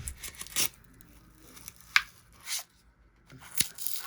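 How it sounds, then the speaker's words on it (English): A sharp buck knife cuts through dried expanded foam insulation around a basement door, giving close, scattered scraping and tearing strokes with short crunchy snaps, quiet between cuts, with no talking. "I take my trusty sharp buck knife and I cut all this here"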